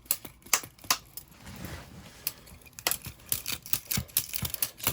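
Pilot burner assembly with piezo igniter being wiggled out of a water heater, a close series of sharp metallic clicks, taps and scrapes, irregular and busier toward the end.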